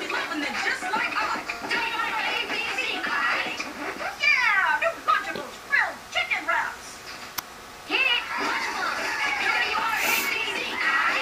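Kittens meow repeatedly at close range in short, high, wavering calls, with a few brief pauses and some quieter background chatter between them.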